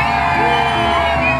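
A large crowd at a Central American parade shouts and whoops together in a sustained, loud roar of many voices, steady and dense throughout.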